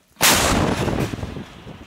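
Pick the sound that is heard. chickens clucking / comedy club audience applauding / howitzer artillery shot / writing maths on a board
howitzer artillery shot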